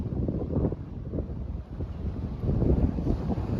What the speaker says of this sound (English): Boy, it is windy up here today, isn't it?